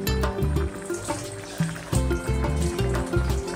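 Thick wet ground spice paste pours and plops into a pot of Bhogi mixed-vegetable curry in a few sloppy splashes, under steady background music.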